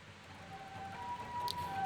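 An ambulance siren in the horror game Corpse Party: Book of Shadows, responding to an elderly woman collapsed outside a house, wails as a thin, steady tone that sounds distant and quiet against faint background noise.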